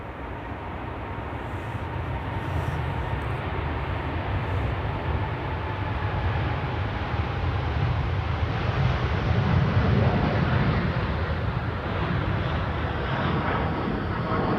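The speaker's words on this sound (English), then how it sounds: "I can hear the engines of a 787-10 Dreamliner to Mumbai." Jet engines of a KLM Boeing 787-10 Dreamliner approaching Amsterdam Schiphol Airport, a steady broad roar that swells slightly over time with wind noise on the microphone and no talk.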